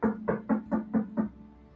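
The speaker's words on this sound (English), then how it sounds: "You hear a knock on the door." Six evenly spaced knocks on a door, firm and close, followed by a short quiet tail, with no talking over them.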